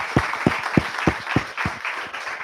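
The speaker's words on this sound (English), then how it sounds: "Let's give a big round of applause." A small audience at an interactive session claps in a slow, fairly regular rhythm, about eight distinct, close, sharp claps spaced evenly, thinning toward the end.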